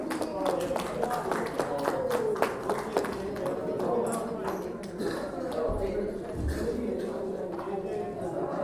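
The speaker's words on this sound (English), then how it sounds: "Can we clap them, everyone?" An audience at a church youth ministry event claps in a dense, steady patter of many hands, with talk underneath.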